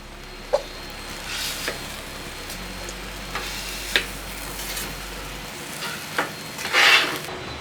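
Southwest egg roll filling with cilantro sizzling on a hot flat-top griddle while a spatula scoops it up, steady frying hiss punctuated by several sharp scraping clicks, close and without talk.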